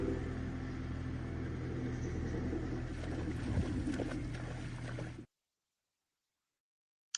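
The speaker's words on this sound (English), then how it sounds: "was cleaning the field with the tractor" A tractor cleaning a field rumbles steadily in the background as a low, continuous engine drone that cuts off abruptly into silence.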